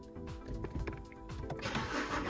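BMW 318i engine cranking and catching, a faint whirring starter motor turning over in uneven pulses, then a brighter rising engine note as it fires up.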